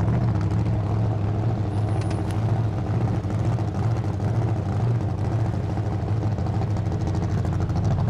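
A heavy 5,000-pound four-wheel drive van engine rumbles steadily and close, a low continuous drone with a brief faint high squeal partway through, no voices.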